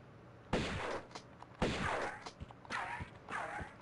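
Shotgun blasts in Tomb Raider Remastered, four heavy booming shots spaced about a second apart, each with a short noisy decay, fairly quiet in the mix.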